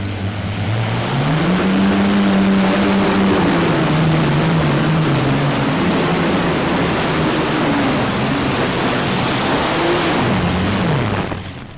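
Pulling tractor at a 1995 farm machinery show tractor pull, its engine roaring loud and sustained for about twelve seconds, pitch climbing, holding, then dipping and rising again near the end, with a broad noisy rush over it.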